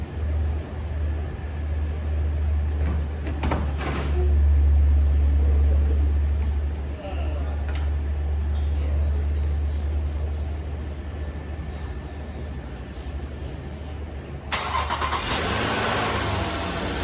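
A 2012 Nissan Murano with a 3.5 engine cranks and starts, then settles into a steady low idle nearby, with a few clicks along the way and a louder burst of noise near the end.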